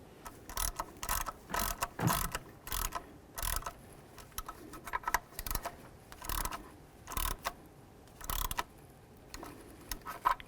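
A new coolant temperature sensor threaded into a Dodge Grand Caravan engine, giving quiet, close ratcheting clicks in repeated short bursts with pauses between turns.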